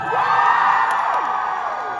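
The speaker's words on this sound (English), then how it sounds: "Give us a cheer if you are a cosplayer in Ghosts right now." A convention crowd at a London comic con panel cheers and whoops loudly and continuously, a dense roar of many voices with high shrieks rising above it.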